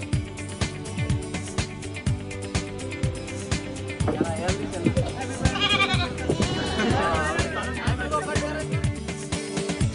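Goats bound for air export from Ozar near Nashik to Dubai bleat in several overlapping, wavering calls clustered mid-clip, over a steady dense background of other sound with possible voices.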